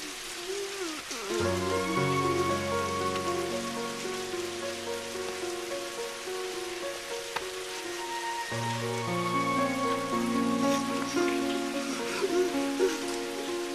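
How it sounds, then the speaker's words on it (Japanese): Rain falls steadily on a surface as a soft continuous patter under a sustained, swelling musical drone that dominates throughout. "ほら見て、地球最後の雨よ。"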